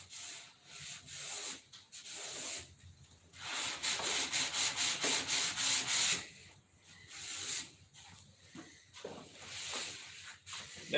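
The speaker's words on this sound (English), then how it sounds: "Now we don't sand through that area." A wood surface is sanded by hand with steady back-and-forth strokes of abrasive paper. The rasping is close and continuous, with a rhythmic run of even strokes in the middle and no speech over it.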